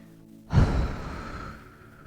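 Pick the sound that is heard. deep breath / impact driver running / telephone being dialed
deep breath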